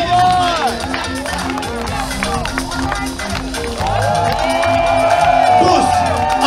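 Crowd cheering and clapping at a lively outdoor competition event, with whoops and excited voices layered over music, loud and continuous, swelling toward the end.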